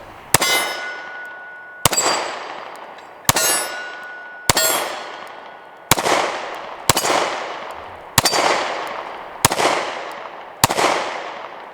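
Nine sharp, loud gunshots from an SCCY CPX2 pistol fired outdoors on a rural property, evenly spaced about a second apart, each with a ringing metallic echo that fades before the next.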